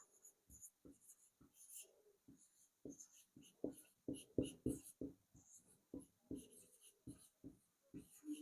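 A pen writes on paper during a lesson on Indian raga classification, giving close, scratchy strokes in short irregular bursts with brief pauses between words.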